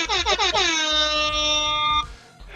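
A loud air horn blares near the microphone, a few stuttering short honks followed by one long sustained blast that cuts off sharply, then brief quiet.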